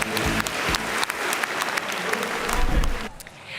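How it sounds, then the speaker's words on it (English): Loud, dense audience applause fills a keynote hall at a corporate community conference, honoring award nominees and winners, sustained and steady before tapering off abruptly near the end. "So let's give all of our nominees and winners today another round of applause"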